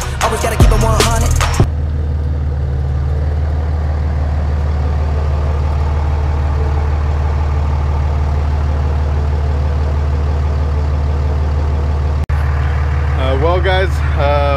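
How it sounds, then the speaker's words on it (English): A lifted third-generation Cummins diesel pickup idles nearby with a loud, steady low rumble throughout, while someone talks over it at the start and again near the end, with a sharp click just before the end. "The truck's running behind me"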